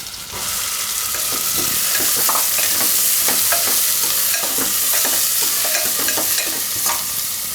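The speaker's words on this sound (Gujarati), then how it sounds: "તો તેલમાં પહેલાં આપણે નાખીશું આ આદુ મરચાં ને લસણ. હવે ડુંગળી." Ginger, chillies, garlic and chopped onion fry in hot oil for Gujarati rasa momos, a loud, steady sizzle with scattered crackles and spoon scrapes as the pan is stirred throughout.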